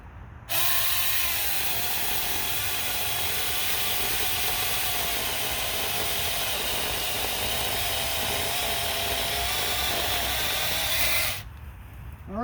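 A battery-powered 6-inch lithium mini chainsaw runs steadily for about eleven seconds, a loud, close, unbroken buzzing whine with no talking, starting and stopping abruptly.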